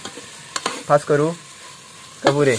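Onions are stirred and fried in a pan over a high gas flame, with faint sizzling and scraping under a nearby voice that speaks briefly.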